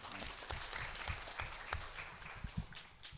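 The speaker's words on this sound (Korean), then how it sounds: "박수 부탁드립니다." At an Agile Korea conference panel discussion, the audience breaks into faint, scattered applause. Irregular claps sound from the crowd at a distance and stay fairly quiet throughout.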